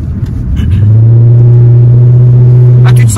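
A 1989 Audi V8 with a stainless exhaust line, around 250 hp, pulls hard under acceleration, its deep steady engine drone rising loud and close from inside the cabin, with brief talk at the end.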